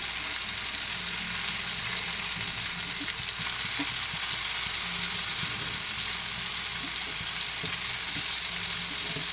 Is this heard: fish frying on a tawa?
yes